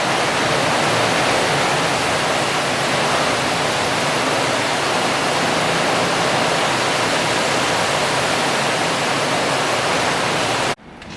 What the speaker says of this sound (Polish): Jest straszna ulewa, straszna burza. Dawno czegoś takiego nie widziałam. Zobaczcie jak woda spływa po dachu.